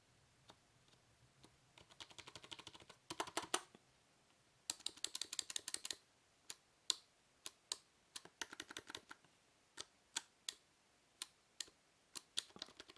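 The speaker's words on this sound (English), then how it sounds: "as I press on the keys. So that's the spacebar and the various random keys." Keys and the spacebar click on a Logitech K400 Plus wireless touch keyboard, faint and close, first in quick typing bursts and then in single spaced presses with pauses between them.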